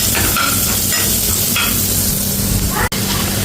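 Onions dropped into hot oil with cumin, giving a steady close crackling sizzle with bursts of spattering and a brief knock near the end, no voices.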